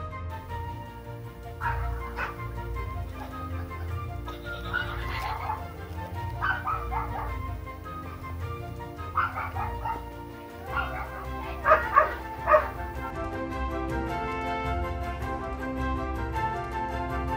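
A guard dog in a garden barks repeatedly in short, sharp yips and bow-wows, with a few clustered barks near the end, all heard over steady background music.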